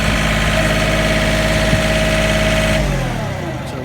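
A cleaning machine engine runs loud and close at a steady idle, a constant mid-pitched drone with a slight drop in pitch near the end.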